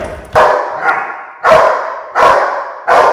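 K9 dog barking during bite training, four loud close barks in a steady rhythm with short quiet gaps between them.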